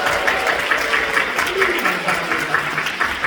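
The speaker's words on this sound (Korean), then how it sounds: "하나님의 은혜가 넘치게 축복하며 뜨겁게 박수드립니다" A church congregation at a Friday night prayer service applauds warmly, a dense, steady wash of clapping filling the room for the whole stretch.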